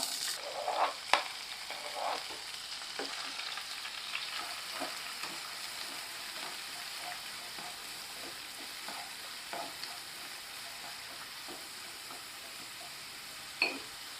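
Torn red chillies and chopped onion fry in hot oil in a pan while prawn pepper thokku is being made, giving a steady soft sizzle. Light stirring scrapes and taps break through at intervals.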